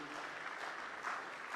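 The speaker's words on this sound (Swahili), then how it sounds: "makofi mengi" Dense applause from a crowd at a public address by the President of Zanzibar, steady and even throughout, with a faint murmur of voices beneath the clapping.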